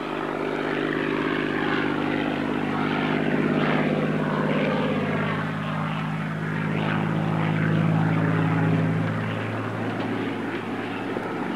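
The Rolls-Royce Merlin engine of a Spitfire drones overhead in flight, a steady propeller-driven roar that swells and eases slightly as the aircraft passes at moderate distance, with no voices.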